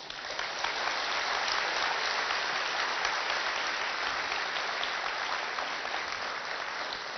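A lecture audience at a medical talk breaks into sustained applause, a dense, even wash of many hands clapping together for several seconds with no voices on top.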